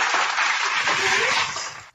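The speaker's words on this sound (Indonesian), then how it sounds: "Tepuk tangan dulu ya" Audience applause at a religious debate event, a dense burst of clapping close and loud that runs steadily before tapering off at the end.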